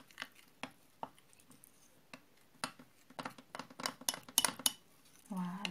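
A spoon clinks and taps against a bowl while mixing a homemade starch and honey face mask, sparse at first and then quicker, quiet and close, ending in a soft wet squish.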